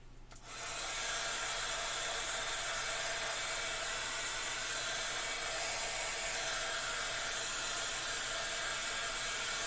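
A hair dryer blows steadily to dry a craft transfer, starting abruptly and holding a loud, even broadband whoosh for the rest of the stretch with no talking.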